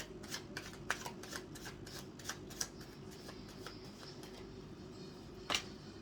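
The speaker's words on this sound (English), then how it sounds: "One more shuffle, we say. One more shuffle, it says." Tarot cards riffle and snap in a series of quick, crisp bursts, close by and otherwise quiet, with one sharper slap near the end.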